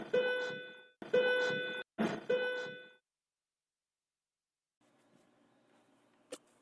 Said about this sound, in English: So there's the bell.